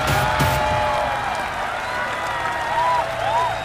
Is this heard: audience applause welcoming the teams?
yes